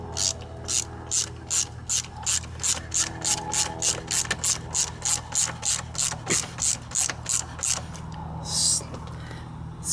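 A ratchet wrench snugs up a muffler bolt on a scooter, making a rapid series of about twenty-five evenly spaced clicking strokes that sound close and clear, with no talk.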